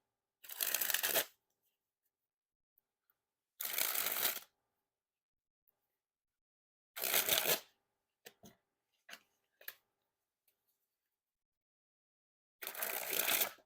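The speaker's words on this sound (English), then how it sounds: "And first we'll start with the springs." A deck of Lepidopterist Patina Edition playing cards is sprung from hand to hand in four loud, dense riffling bursts of about a second each, separated by quiet gaps with a few soft taps and card clicks between them.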